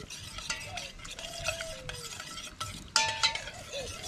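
Chicken being stirred in a pot over a wood fire, with scraping and clinking of a utensil against metal in irregular strokes, close by, plus a brief sharper clatter near the end and no speech.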